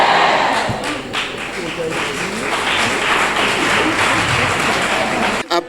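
Audience applause at an International Women's Day celebration in Adjarra, a dense, steady wash of many hands clapping at close range with a loud, even level, cutting off abruptly at the end; voices may be mixed in beneath.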